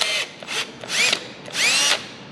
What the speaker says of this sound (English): So I'm just going to use my drill